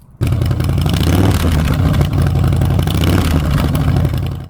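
A 2017 Harley-Davidson Softail Breakout motorcycle engine bursts into a loud, continuous close-up rumble with clattering texture. It holds steady throughout and fades slightly at the very end, with no talking.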